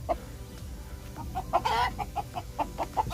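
Nepali roosters and local hens cluck nearby in a series of short, repeated calls over a low background rumble.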